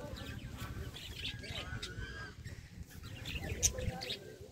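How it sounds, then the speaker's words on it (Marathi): Sparrows of various colours chirping at a tank museum in Ahilyanagar, quick, light tweets scattered through the scene, heard close by under a voice. "वेगवेगळ्या रंगांच्या चिमण्या आहेत आणि हे अशा पद्धतीने चिवचिव करतायत बघा"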